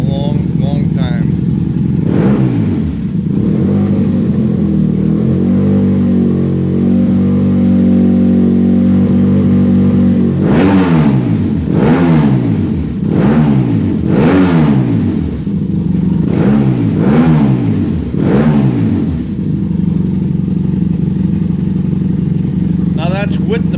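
A 1992 Yamaha TDM 850 motorcycle with the baffle fitted in its exhaust idles steadily, then revs up sharply several times in quick bursts, loud and close, with someone speaking over parts of it.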